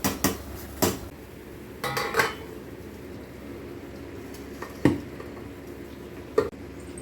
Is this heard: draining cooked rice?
yes